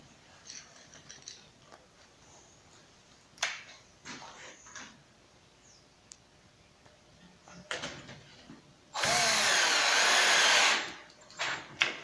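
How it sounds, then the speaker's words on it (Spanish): A power drill drives angled screws into melamine board for a floating nightstand, with a long, loud whirring burst near the end after quieter handling knocks and clatter. "estoy colocando los tornillos inclinados por acá"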